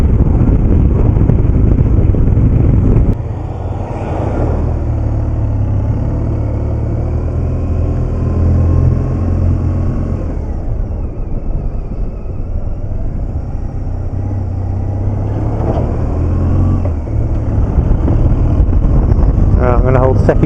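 A 2007 BMW R1200GS motorcycle ridden in gear, its engine droning under heavy wind rush across the microphone, pitch rising and falling with gear changes while a rider talks throughout.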